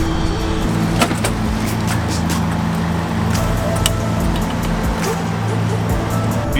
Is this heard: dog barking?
no